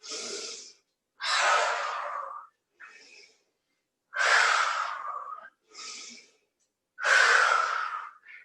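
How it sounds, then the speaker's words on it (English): Cooling breaths pushed out forcefully through the mouth during a yoga session, each a loud, breathy gush alternating with softer inhales in a slow steady rhythm, close and alone without talk. "Let off some heat out through the mouth. Cooling breath."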